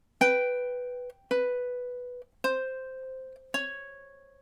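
Ukulele plays the ending of a song: four separate plucked notes, each struck clearly and left to ring briefly before the next, evenly spaced in a slow, deliberate rhythm, close and alone.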